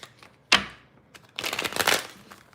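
Tarot cards riffle-shuffled by hand, a sharp crisp burst of card flutter followed by a longer, denser run of rapid papery slapping, close and fairly loud with no talking.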